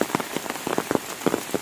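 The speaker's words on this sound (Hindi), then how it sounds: "भले ही लगातार बारिश हो रहा है" Continuous rain falls near Little Adam's Peak in Ella, Sri Lanka, with close, steady pattering and irregular louder drops, as if striking umbrellas, and no voices.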